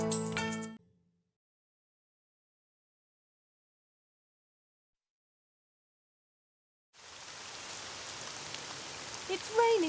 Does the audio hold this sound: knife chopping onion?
no